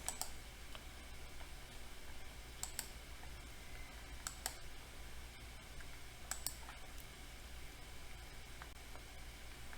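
Faint, sparse computer mouse clicks come over a steady background hiss while a paper is downloaded, with single and double clicks spaced a second or two apart and no talk.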